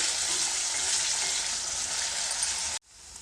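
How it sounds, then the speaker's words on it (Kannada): Paneer fries in a pan until brown, giving a dense, even hiss of sizzling oil close by, which cuts off abruptly near the end. "ಪನ್ನೀರನ್ನು ಒಂದು ಸ್ವಲ್ಪ ಬ್ರೌನ್ ಕಲರ್ ಬರೋವರೆಗೂ ಫ್ರೈ ಮಾಡ್ಕೊಂಡಿದ್ದೀನಿ"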